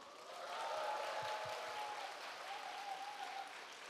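Sustained applause from a seminar audience in Ulsan fills the room, a dense steady patter of many hands holding loud for several seconds before easing slightly.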